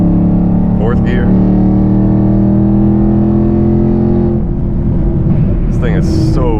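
A car with a loud engine and traction control, a sustained heavy engine drone while driving with a shift in pitch partway through, heard from inside the cabin with a person speaking over it.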